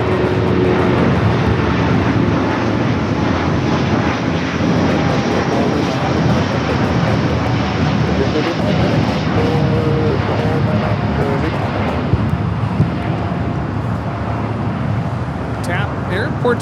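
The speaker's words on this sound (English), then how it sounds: "Tap Air Portugal, flight 248, taking off to Lisbon on the A330 Neo with the 75-year sticker" A TAP Air Portugal Airbus A330neo on departure at Los Angeles International Airport, a steady, loud jet engine roar that holds for the whole stretch and stays broad and continuous without letting up.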